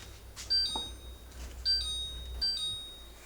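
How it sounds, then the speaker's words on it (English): Several short high-pitched electronic beeps, faint and somewhat distant, spaced irregularly over a low background hum. "Oh, the beeping."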